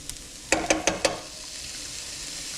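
Garlic dropped into a hot pan over medium heat for ground beef stroganoff, giving four quick sharp pops and crackles close together near the start, then a soft steady sizzle that lingers quietly.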